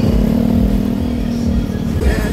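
Motorcycles idle and rumble on a crowded endurance race grid, with a close engine's steady low throb and a brief rev near the end amid crowd murmur.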